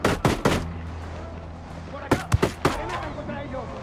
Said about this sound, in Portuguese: Disparos en el área, disparos en el área.